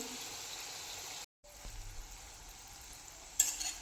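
Shankarpali sweets fry in hot oil while being stirred and flipped, a steady soft sizzle broken by a brief silence, then light stirring movements and a sharper burst at the end.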